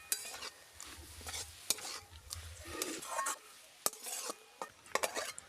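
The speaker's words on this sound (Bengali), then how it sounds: "এবার আমি 1 চামচের মতো চিনি আর ধনেপাতা কুচি দিয়ে 1 মিনিট ধরে এটাকে ভালো করে মিশিয়ে নেব।" Cauliflower paratha filling stirred in a pan with sugar and chopped coriander: irregular spoon scrapes and taps on the pan over a faint low sizzle, fairly quiet and close.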